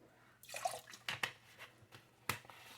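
Water being poured and splashing into a container while making homemade pickle brine, with a few soft drips and splashes close by, quiet and without talk.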